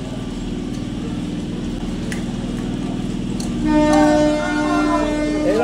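Interior of a moving 12-coach passenger train, a steady rolling rumble with rhythmic wheel clatter, and a horn sounding in the distance in the second half, with faint voices of passengers underneath.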